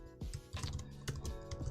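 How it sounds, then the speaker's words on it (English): Someone types on a computer keyboard, producing a quick, uneven patter of nearby key clicks in short bursts, with no talking over it. "You'll probably have to excuse my typing as well."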